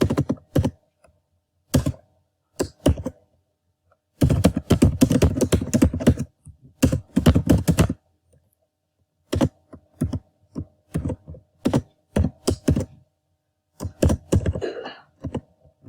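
Bursts of rapid, close keystrokes on a computer keyboard while writing code, clattering in clusters separated by short silences, with no speech.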